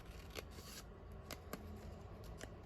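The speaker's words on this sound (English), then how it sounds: "I'm just going to cut it down here." Scissors cut paper for a handmade junk journal, several quiet, crisp snips spaced unevenly over a faint background, close by and soft, with no talking.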